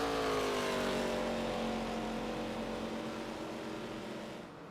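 IROC race cars and a pace car circle Talladega Superspeedway under caution. A strong engine drone sweeps downward in pitch as cars pass, then slowly fades into the distance, with no talk.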